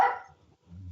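A dog gives a single short bark nearby, fairly faint, followed by a low rumble of background noise.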